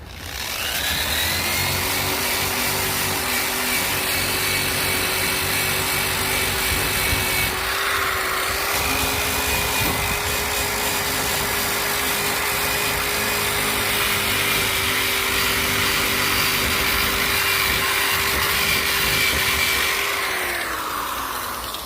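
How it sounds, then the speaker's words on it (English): A steady, whirring drill grinds continuously with a wire brush bit, removing rust from an old anchor, a loud harsh scraping hum that holds nearly unchanged for about twenty seconds. "what I'm using is a drill bit with a wire brush"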